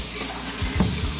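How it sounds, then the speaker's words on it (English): Warm water running steadily from a tap into a sink, a short, soft, continuous splashing stream close by. "I'll go ahead and turn the water off, just let it soak a little bit now too."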